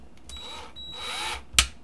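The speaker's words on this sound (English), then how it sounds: "We're just drilling the last hole in here." A power drill boring the last hole for buttons in a homemade doodad, running in two short bursts of whirring with a sharp louder spike near the end, fairly close and quiet, no talking.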